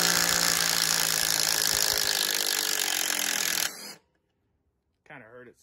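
Ryobi and Dewalt impact drivers driving lag bolts give a loud, dense rattling buzz for nearly four seconds before stopping, then a short silence before a voice speaks.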